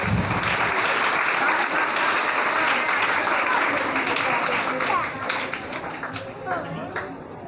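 Audience applause for students at an Islamic educators school event, dense and loud clapping from a crowd sustained for several seconds, then thinning out toward the end.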